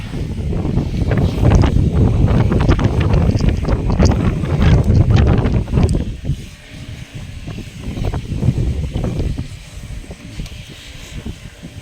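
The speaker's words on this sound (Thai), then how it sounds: "ลมก็แรงด้วย" Strong wind during rain buffets the microphone with a loud, continuous rumbling roar that gusts and eases slightly partway through.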